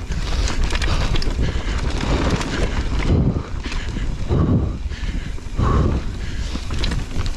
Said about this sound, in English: That's the sound of an SB50 eating up some Pisgah.